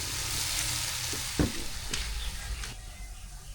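Pork frying in a pan before making sinigang, a steady close sizzle with a few sharper crackles and pops, no voices over it.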